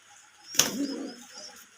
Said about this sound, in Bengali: দেখতেই পাচ্ছেন এই যে এখানে একজোড়া কবুতর